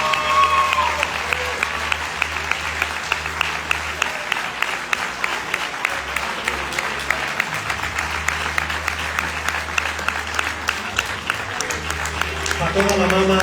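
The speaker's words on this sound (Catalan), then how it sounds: "Crec que es mereix un aplaudiment molt fort." Audience applause for a five-time Catalan champion, steady clapping from a crowd that holds for the whole stretch with a low hum underneath.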